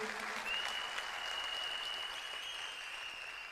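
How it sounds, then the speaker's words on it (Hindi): Steady, fairly faint applause from an audience at a company presentation, many hands clapping evenly, with a thin high whistle-like tone running through it. "मैं चाहूंगा एक बार तालियां जोरदार आईएमसी फाउंडेशन के लिए"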